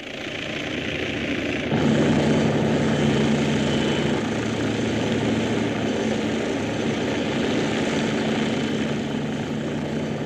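A Bölkow police helicopter of the Dutch aviation police hovering in place, a continuous loud roar of engine and rotor that swells sharply after a couple of seconds and then holds steady throughout, with no voices.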